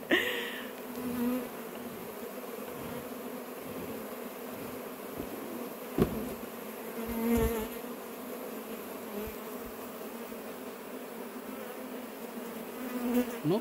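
A dense bee swarm drones and buzzes steadily up close as it is captured from a wooden stump near a house, a continuous insect hum with a few knocks and bumps.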